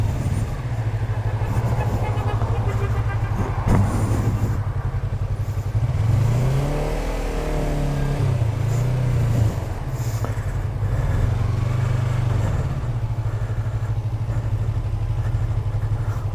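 Yamaha R25 motorcycle engine idling and revving in slow match-day traffic in Adana, a steady close drone with repeated throttle blips rising and falling over the background traffic.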